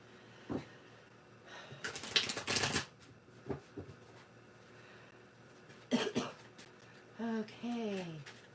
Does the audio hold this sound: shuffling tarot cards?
yes